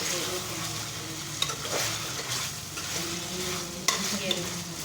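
Finely grated ginger being mixed into a Peshawari charsi chicken karahi: a continuous close sizzle of frying, with occasional sharp clinks and scrapes of a spoon against the pan.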